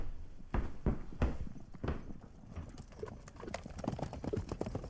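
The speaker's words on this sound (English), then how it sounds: "I will call for a horse." Horse hooves clip-clop in a radio play sound effect, a steady walking rhythm of distinct hoof strikes, fairly close and moderately quiet, with no voices over them.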